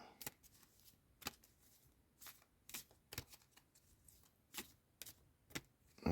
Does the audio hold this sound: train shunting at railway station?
no